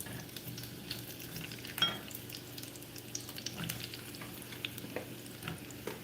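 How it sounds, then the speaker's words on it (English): Carrots frying in coconut oil in a pan, a steady soft sizzle and crackle that runs the whole time, with a few stirring clinks and one louder scrape partway through. "Our carrots are just frying in the oil."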